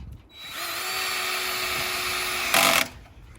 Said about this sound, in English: Now I'm just going to screw into my joists.